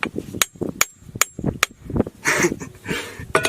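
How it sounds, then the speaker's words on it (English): A hammer strikes an iron anvil that floats on a pool of mercury, giving a series of sharp, loud metallic hits in a steady rhythm, followed by a few rougher, muffled clanks. "I want to try hitting it with a hammer."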